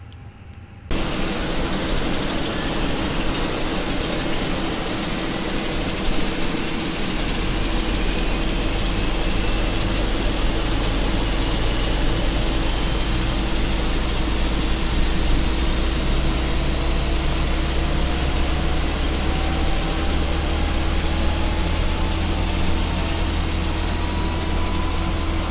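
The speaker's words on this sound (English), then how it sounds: "Engine mode selector is going to go to start. And we can start engine 2" Airbus A320 engine 2 starting in the Fenix A320 flight simulator game at San Francisco, a loud steady roar and hiss that deepens as a low rumble grows partway through, with a faint rising whine and no talk.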